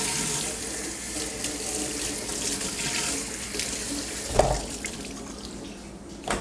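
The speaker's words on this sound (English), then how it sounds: "we do a quick rinse" Tap water runs steadily at a kitchen sink as a trimmed pork butt is given a quick rinse, a close, continuous splash that thins out toward the end.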